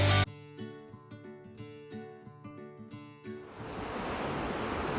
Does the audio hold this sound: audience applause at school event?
no